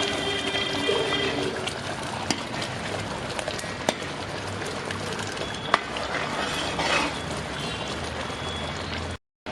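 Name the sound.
thick first coconut milk poured into parippu payasam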